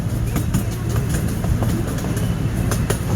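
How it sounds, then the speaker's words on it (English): An amusement park train ride at Knoebels rolls through woods, giving a loud, steady rumble with rhythmic clicking of wheels on the track. "I know I've done this train ride at Knoebels before,"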